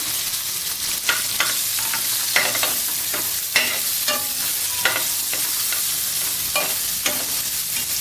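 Chopped onion frying over medium heat in a pan with garlic and ginger, a constant soft sizzle broken by periodic scraping strokes of a spoon stirring, close and clear with no voices.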